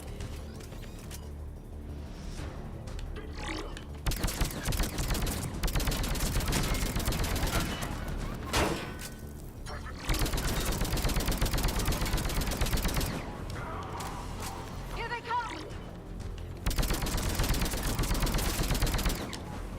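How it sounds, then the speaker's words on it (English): Steady, loud rifle fire crackles through a Mass Effect 3 firefight, dense repeated shots and mechanical clatter continuing for about twenty seconds with no talk. "Let's switch to my sniper rifle and pick them off."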